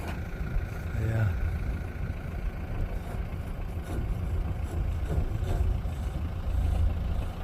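Farm tractor fitted with a feed hopper idling near livestock pens, a steady low engine rumble running continuously at moderate level with some background noise.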